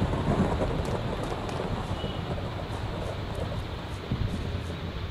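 Rain pours outside at night with a low rumble of thunder in the background, a dense, steady hiss of falling water heard from indoors, fairly loud and continuous without any talking.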